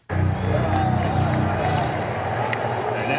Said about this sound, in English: this crowd is still buzzing from the vicious rally that Drago brought forth in the last minute of round number 1